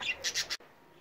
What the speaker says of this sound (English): that's the state of the aviary and the budgies outside